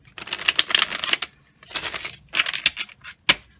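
Tarot cards being drawn and shuffled from a deck, a run of crisp papery flicks and snaps in uneven bursts with short pauses, close and fairly quiet, with no voices.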